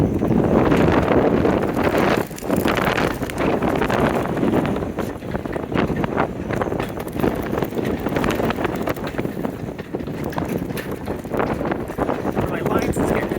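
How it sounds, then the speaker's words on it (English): Strong wind gusting up to 35 knots buffets a moored boat, a dense, unbroken roar with uneven surges that runs throughout. "Gusting up to 35 knots."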